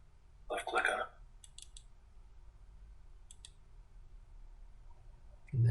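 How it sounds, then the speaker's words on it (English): A computer mouse left-clicks a few times while working in CAD software: sharp, quiet clicks spaced apart over a soft, low background hum. "Left click on it."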